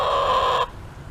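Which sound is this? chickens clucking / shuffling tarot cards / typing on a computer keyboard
chickens clucking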